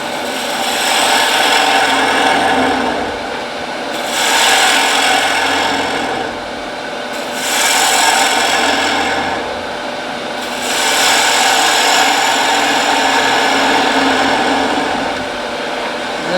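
A bowl gouge cuts wood on a turning lathe, making a loud, steady scraping hiss that swells and eases in repeated passes every few seconds, close up with no talk.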